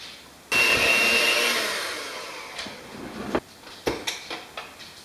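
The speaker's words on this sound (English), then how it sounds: "before I turn my blender on" A kitchen blender mixes almond bar batter with flour, starting abruptly with a loud whirring roar that slowly fades as the motor winds down, followed by a few scattered knocks and taps.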